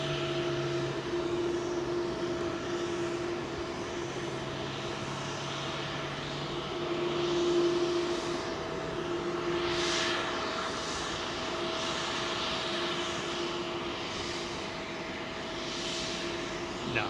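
A WestJet airliner on Heathrow's runway 27L gives a steady, distant jet engine drone with a faint tonal hum, swelling slightly midway and continuing without speech.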